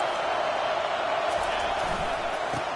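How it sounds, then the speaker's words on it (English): Roaring stadium crowd at a football game during a penalty, a dense, steady wall of cheering and shouting that swells without pause, loud and close, with a few sharper whoops rising above it. "Listen to this crowd just shaking the girders of this place"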